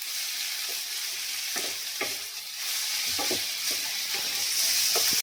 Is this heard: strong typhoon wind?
no